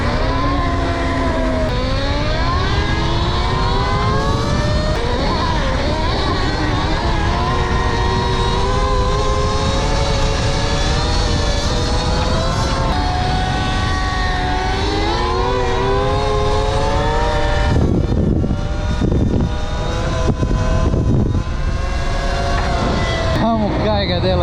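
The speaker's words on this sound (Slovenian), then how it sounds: "Amo kaj ga dela motor." A racing motorcycle or car engine revs loudly and continuously, pitch sweeping up and down through gear changes, close by, with brief gaps near the end and faint voices underneath.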